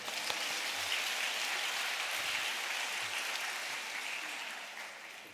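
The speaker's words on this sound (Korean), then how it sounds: "여기서 박수." Congregation clapping during a church revival service, a soft, steady patter of many hands that fades slightly toward the end.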